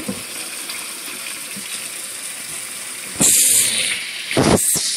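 Tap water runs over a bowling ball being rinsed after an oil-removal soak, starting as a soft steady trickle and then gushing louder and splashier near the end, close by with no talking.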